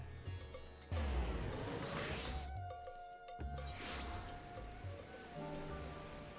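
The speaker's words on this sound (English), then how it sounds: "It's like, how is it raining?" Steady rain in the video game Final Fantasy XIV pattering with a brief whooshing sweep passing through, a constant hiss that drops out for a moment before resuming.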